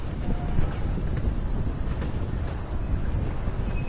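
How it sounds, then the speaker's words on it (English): A train ride in Red Dead Redemption 2 gives a steady, close rolling rumble of rail cars with faint clacks, continuous and with no talking. "we could just sit on the train for a little while"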